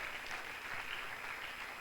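A crowd claps steadily for an ambassador arriving at a welcome event, the applause quiet and distant but continuous, with no voices standing out.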